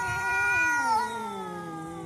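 An outdoor cat lets out a long, drawn-out yowl with a wavering, descending pitch, loud and close, alone without talk.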